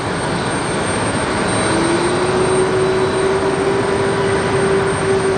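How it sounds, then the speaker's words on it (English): A Delta A220 jet powers up for takeoff at LaGuardia airport, a loud, steady engine roar that holds throughout with a rising tonal whine building in partway. "this Delta A220 He's gotten his takeoff clearance"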